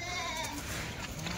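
Kathewadi goats bleating close by, a brief strained cry over a noisy, crowded background.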